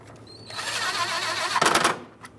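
A screwdriver drives screws into the plastic windshield washer reservoir of a 2011-2018 Ram 2500, a close whirring buzz lasting about a second and a half, ending in a rougher rattling burst.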